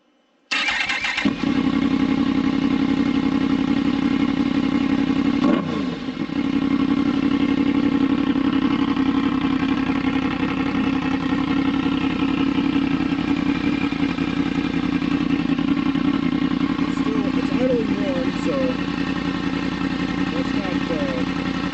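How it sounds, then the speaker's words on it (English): A Yamaha MT-10 motorcycle idles steadily with a baffle insert in the exhaust, a dull, muffled rumble, loud and close, with a brief dip partway through; a voice speaks at moments over it. "We're going to see what this sounds like with the decibel killer in."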